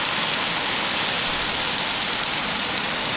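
Heavy pouring rain beneath a thundercloud, an unbroken loud roar of dense drops filling the whole span with no other sounds.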